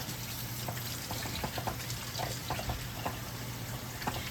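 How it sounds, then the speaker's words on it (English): A kitchen tap runs steadily while someone washes their hands, a soft continuous splashing close by with small irregular spatters and no talking. "let me wash my hands"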